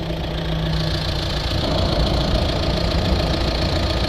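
A Vauxhall Vivaro van's diesel engine, with a clogged particle filter, idles close up with a steady, rough, knocking clatter that stays loud and even throughout.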